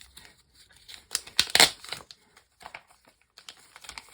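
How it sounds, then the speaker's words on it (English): Masking tape being handled and torn around the hull of a 1:84 Artesania Latina Santisima Trinidad model ship, close crinkling and sharp tearing bursts in quick irregular clusters with brief pauses, no talking. "put some masking tape around the body here"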